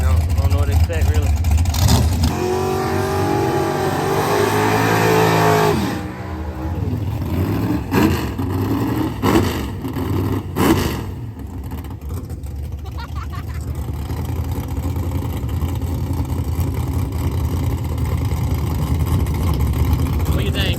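A bracket-racing drag car with freshly adjusted rocker arms makes a test pass. A loud engine roar builds and revs, drops into choppy bursts, then settles into a sustained fading drone. People talk over it near the start.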